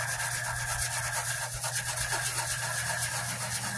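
Hand sanding roughs up a surface on a painted vehicle panel after scraping off adhesive remover, a continuous close scratchy rubbing at even loudness with no pauses or voices.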